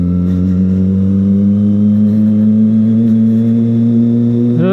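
Kawasaki ZX-25R motorcycle engine idling steadily and loud at close range at an authorized Kawasaki service workshop, holding a constant pitch throughout with a brief rise near the end.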